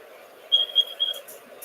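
An electronic alarm going off: three short, shrill, evenly spaced beeps, fairly faint, over a low hum, in a brief stretch with no speech.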